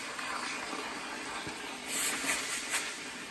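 A handheld steamer hisses over a motorcycle helmet being cleaned, a faint steady hiss with a few louder puffs of steam toward the end.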